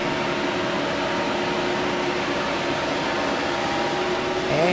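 A blower fan runs with a steady, even broadband whoosh and a faint mechanical hum, constant and unbroken from start to finish, swelling slightly louder right at the end.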